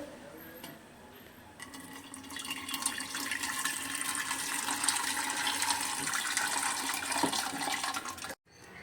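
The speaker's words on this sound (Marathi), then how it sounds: "आता आपल्या या पाण्याला चांगले उकळी आलेले आता मी हे कुकरमध्ये वतते" Boiled water poured from a pot into a pressure cooker holding mutton, a steady splashing, gurgling stream that swells over several seconds at close range and then cuts off abruptly.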